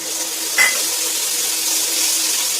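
Steady, close sizzling of oil as a tempering for kadhi pakora fries in a pan, with a brief sharp crackle early on, continuing evenly without speech.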